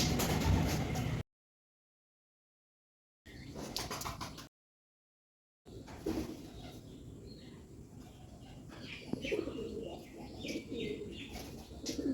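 Pigeons coo softly amid light rustling and pecking, with a few brief gaps of silence early on.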